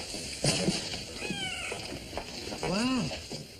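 A cat meows in a hospital setting, with a rising-falling cry near the end and a shorter one earlier, heard under and between people talking.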